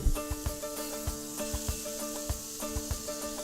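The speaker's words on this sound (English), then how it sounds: "Nice little sizzling there." Onions and green bell pepper sizzling in a pan, a steady close hiss with faint stirring taps over quiet background music.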